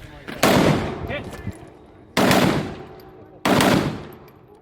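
Three loud, close rifle shots from a Kalashnikov, each a sharp crack followed by a long rolling echo, spaced roughly a second or two apart at an outdoor range in Texas.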